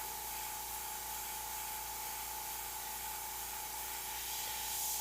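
Airbrush spraying paint over a skull design, a steady close hiss that runs unbroken throughout with a constant tone and no talking.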